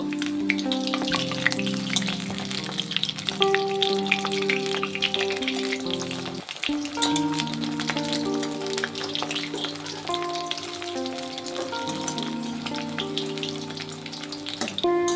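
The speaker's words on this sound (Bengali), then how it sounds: "বড়াগুলোকে এপাশ ওপাশ করে লাল লাল করে ভেজে নেব।" Fish fritters fry in hot oil in a wok, giving a steady, close sizzle that runs the whole time beneath prominent background music.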